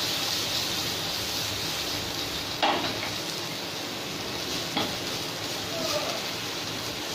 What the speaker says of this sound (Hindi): ऑयल ले लेंगे और उसके अंदर हम डालेंगे गार्लिक, प्याज और उसको 10 से 15 सेकंड